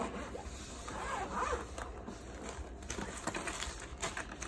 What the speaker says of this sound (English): Two zip compartment. So let's open it up.